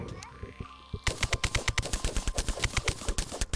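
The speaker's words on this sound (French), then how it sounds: "Check la mitraillette que je suis devenue." Rapid machine-gun fire from the video game Terraria rattles in a fast, even burst of shots after a short lead-in of other game sounds.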